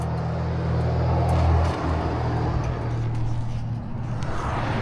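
A Harley-Davidson Road Glide on a test ride after a new wiring harness was fitted, its engine a steady low rumbling drone mixed with wind noise, close and continuous throughout.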